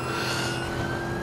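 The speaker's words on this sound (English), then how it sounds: "See, my sirens are on." Police car siren from the Watch Dogs video game, a steady wailing tone with a sustained pitch line holding throughout, fairly loud against a dense background of game ambience and traffic noise.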